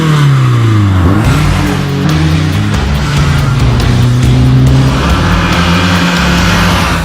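BMW E30 M3 with its four-cylinder enlarged from 2.3 to 2.5 litres, 48mm intakes and a rally exhaust, revving loudly up and down, pitch sweeping through several rises and drops, close and alone.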